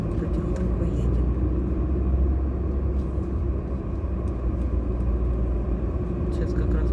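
A car driving slowly onto the newly repaired Malinovsky bridge in Rostov-on-Don, a steady low engine and road rumble heard from inside the vehicle, with a person talking over it and a few light knocks.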